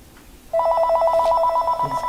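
A telephone rings loudly and close, one sustained electronic trill that starts abruptly and holds steady for about a second and a half before breaking off, with no talk.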